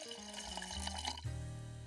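Water poured into the inner pot of a TOKIT Pro 1.5 L rice cooker over rinsed rice, a close, steady trickle and splash whose pitch rises as the pot fills.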